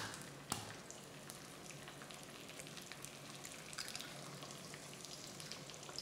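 Eggs frying in a hot pan with sesame oil for fried rice, giving a steady, close crackling sizzle throughout with a sharp click near the start and no talking.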